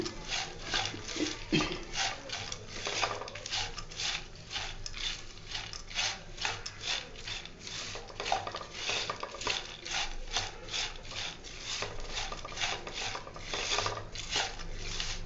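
Hands mix masala peanuts with chilli powder and salt in a bowl, a steady rhythmic rubbing and rasping rattle of nuts, close and fairly quiet throughout.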